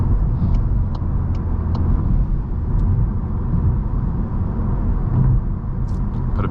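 Steady close engine drone and road rumble from a Volkswagen MK8 GTI driving in a long third gear with an automatic transmission, a continuous loud low hum with a few faint ticks over it and no talk.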